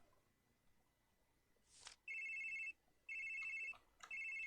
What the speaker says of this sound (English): Whoa, the phone!